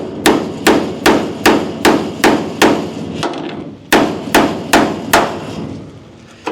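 Hard metallic hammer blows strike a classic car's steel floor pan to break spot welds, about a dozen sharp, loud, close hits in a steady rhythm with a brief pause midway.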